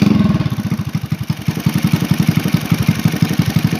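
A Suzuki Supra Fit motorcycle engine with a rubbing noise near the magneto runs steadily at a close, loud idle with a regular chugging pulse throughout.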